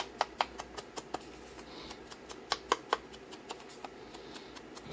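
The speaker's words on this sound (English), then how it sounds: "I'm going to kind of distress the edges with my scissors" Scissors scrape and snip along paper edges to distress them, a quiet series of sharp, irregular clicks and rasps close by.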